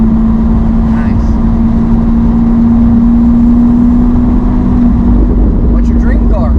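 An exotic car's engine drones loudly and steadily from inside the cabin during a ride, a constant deep hum filling the whole stretch, with faint voices mixed in.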